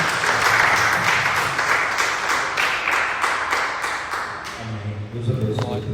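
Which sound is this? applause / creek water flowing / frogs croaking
applause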